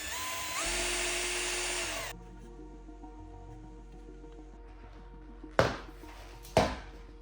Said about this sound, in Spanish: Haremos 3 agujeros para poner unos prensaestopas.